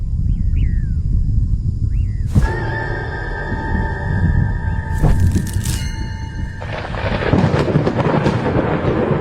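Loud rolling thunder rumbles continuously with sharp cracks and crashes layered over it, while tonal whistling sound effects and bird-like chirps cut through near the start.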